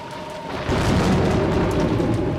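Stormy weather in the Umineko visual novel: a steady wash of rain that swells into a loud, rolling thunder rumble partway through, sustained to the end with no voices.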